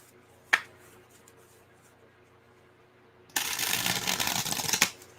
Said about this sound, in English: Me shuffling.